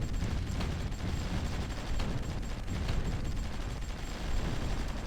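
Artillery fire in the strategy game Supreme Ruler Ultimate, a steady wall of dense, rumbling bombardment with overlapping distant booms and crackling shots throughout, no voices over it.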